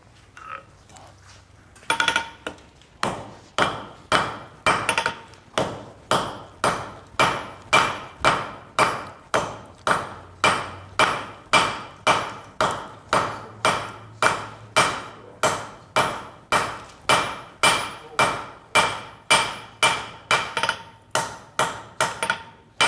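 A blacksmith at a smithing conference hammers hot steel on an anvil, a long steady run of about forty sharp ringing blows at an even rhythm, loud and close, with no talking.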